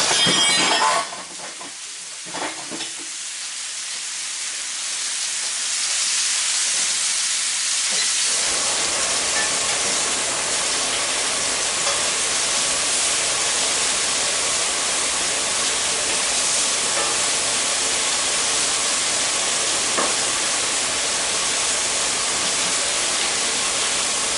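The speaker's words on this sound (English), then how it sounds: "put these steaks, they're getting seared off pretty good" Steaks searing in a hot pan give off a loud, steady sizzle and hiss that builds after a quieter start, then holds strong and unbroken to the end.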